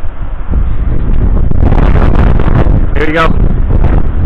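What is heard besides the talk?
strong wind after a storm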